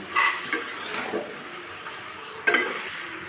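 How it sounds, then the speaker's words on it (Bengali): Jackfruit and lentils being stirred and sautéed in a hot wok, with a few short scraping stirs and a soft, steady sizzle underneath; no talking. "ভেজে রাখা এঁচোড়গুলো দিয়ে খুব ভালো করে বেশ কিছু সময় নেড়ে চেড়ে একটু কষিয়ে নেব"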